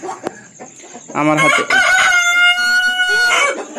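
Brahma chickens cluck close by on a farm, then a loud rooster crow rises over the flock's chatter.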